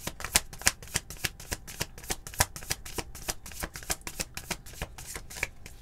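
Brisk, rhythmic riffling of tarot cards being shuffled, a rapid run of crisp slaps and flutters, close and fairly loud with no voice over it.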